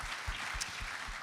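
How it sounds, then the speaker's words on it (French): Audience at a round-table session of the GDS France 2022 congress claps in a short, faint burst of applause heard from a distance. "on l'applaudit, bravo"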